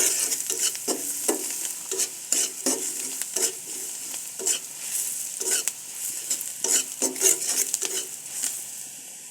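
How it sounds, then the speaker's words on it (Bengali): Sliced onions frying for a fish curry in a pan with turmeric and salt, a soft steady sizzle broken by repeated sharp scrapes and clinks of a spoon stirring against the metal, with no voices. "এই যে পেঁয়াজগুলো ভাজা ভাজা হয়ে গেছে"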